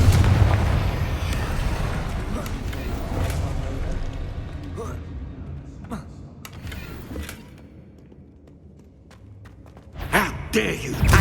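Confringo fire-blast spell explosions in the Hogwarts Legacy video game, deep booming blasts that roll on and fade, then a fresh burst of bangs near the end, with a voice shouting spells over them.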